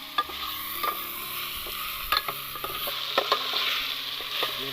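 Chicken curry is stirred and mixed in a pan during an outdoor forest cook-up, with irregular utensil scrapes and knocks over a moderate sizzling hiss.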